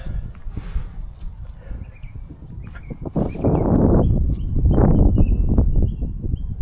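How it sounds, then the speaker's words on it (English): Birds chirp and call outdoors over rustling and shuffling movement, with bright high-pitched notes scattered throughout. "If you can hear the birds."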